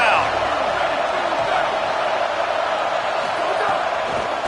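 Stadium crowd at a college football game during a tense third-and-goal, a broad, constant wash of roaring noise throughout, with an announcer's voice talking over it.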